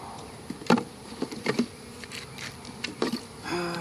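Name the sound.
mosquitoes buzzing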